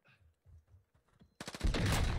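Sniper rifle gunfire in a video game: a few quiet taps and muffled thuds, then a loud, dense burst of shots over the last second, with no talk.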